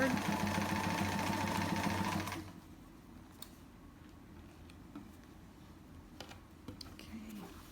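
Sewing machine stitching fabric forward after a reverse stitch, a fast, steady mechanical whirr with rapid needle chatter for about two seconds, then stopping and leaving faint handling noise.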